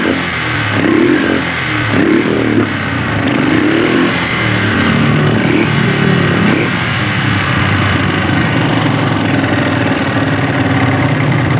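A loud Yamaha Byson motorcycle engine with a fault idles roughly and continuously nearby, a rattling mechanical drone with small surges in throttle.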